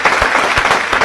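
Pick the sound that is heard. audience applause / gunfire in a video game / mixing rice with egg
audience applause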